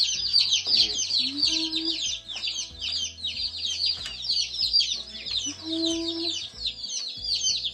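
A brood of fifteen baby chicks peeps constantly in a brooder, a dense, high, chattering chorus close by, while a person counts aloud over it.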